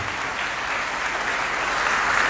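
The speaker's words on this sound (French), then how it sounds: "Nous applaudissons tout le visiteur du parlement." Applause from a church assembly welcoming visitors: a dense, steady burst of many hands clapping together, even and sustained throughout, with no speech over it.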